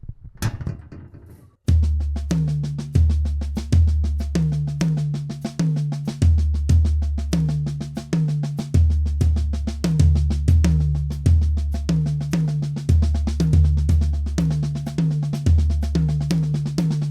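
A drum kit plays a steady groove at a drum clinic, with deep kick and tom hits and crisp accented single strokes in a repeating pattern, loud and close, after a brief quieter lead-in.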